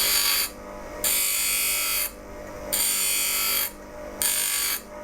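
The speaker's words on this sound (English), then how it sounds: "what I need to do is now take away this metal around here and sharpen it all the way along here" A metal woodcarver's skew chisel being sharpened on a power grinder, making a loud, harsh, close grinding hiss that comes in repeated passes of roughly a second each, with short quieter gaps between strokes.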